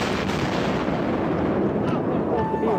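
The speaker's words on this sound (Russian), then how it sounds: "За секунду до обрушения слышен отчетливый звук взрыва." A loud, dense blast-like roar from amateur footage just before a building collapse, a sustained rumbling boom filling the short span without any clear speech.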